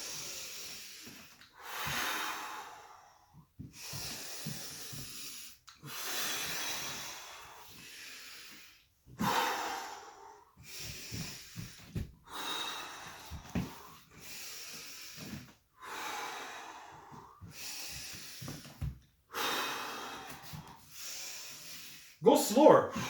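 Heavy rhythmic breathing during a plank exercise, long hissing inhales and exhales repeating in slow cycles, close to the microphone and fairly faint, with soft vocal sounds between breaths.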